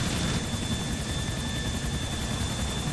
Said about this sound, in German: Flieg mal nah ran, ich spring an deinen Helikopter.